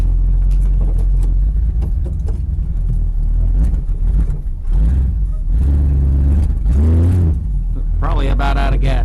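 An old Dodge RV engine roars and revs hard in a yard while burning rubber, loud and close with surging acceleration, and someone speaks over the engine noise.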